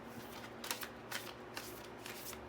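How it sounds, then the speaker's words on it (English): Oracle cards get an overhand shuffle close by, a faint, quick series of soft riffling slaps and rustles in an irregular rhythm, with no talk. "And then we'll just do some overhands here."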